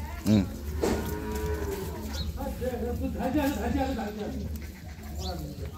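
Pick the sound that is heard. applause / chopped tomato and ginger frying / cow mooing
cow mooing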